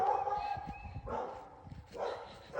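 Dogs bark in a front yard on a homestead on an April morning, with a few sharp barks and yips spread across the moment at moderate distance, slightly muffled.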